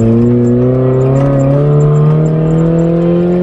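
A Talon car accelerating hard on a drive to a hill, its engine revving high and climbing in pitch toward a gear shift, loud, close and continuous with no talking.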